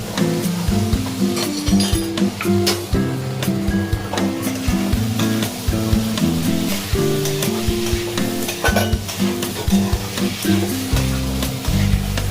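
Young jackfruit sizzling and frying in a pan, steady and close, with repeated scraping and stirring strokes of a utensil against the metal.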